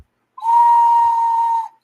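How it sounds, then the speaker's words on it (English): A handmade Mexican death whistle is blown once, giving a loud, steady, shrill tone that holds for just over a second before cutting off, with no other sounds around it. "And I got a death whistle. This is totally handmade."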